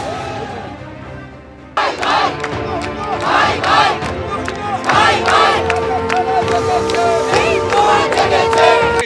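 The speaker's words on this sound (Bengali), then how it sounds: "আলিপুর আদালতে জামিনের পরই আদালত চত্বরে স্লোগান তোলেন সনাতনীরা।" A crowd on the court premises at Alipore, Kolkata, chants slogans after a bail ruling, loud rhythmic shouting from many voices, steady and close.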